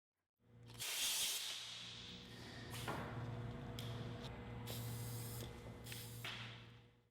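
Compressed air blasts a sanded plastic bumper repair tab clean, a continuous loud close hiss with a strong low hum underneath and a few brief louder bursts.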